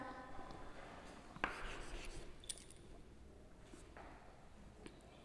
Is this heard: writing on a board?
yes